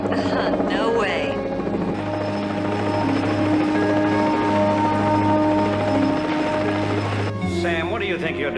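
Helicopter flying close over water, a loud steady rotor drone with harmonic hum that holds throughout, with voices talking over it near the start and again at the end.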